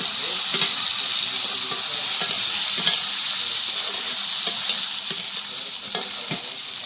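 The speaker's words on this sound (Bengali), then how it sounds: "তারপরে আমি শুটকিগুলো দিয়ে দিলাম ভালো করে বেজে একসঙ্গে দিয়ে লেড়ে চেড়ে" Dried fish (shutki) fries in a pan with kochu loti and prawns while being stirred, giving a continuous bright sizzle broken by scraping stir strokes and a few sharp clicks of the spatula against the pan.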